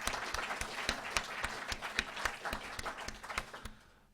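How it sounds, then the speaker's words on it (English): An audience claps and applauds steadily through to the end at a live Celtic music concert in Rangeley, Maine. Some rhythmic clapping stands out within the dense crowd applause before it fades. "So a big round of applause to them."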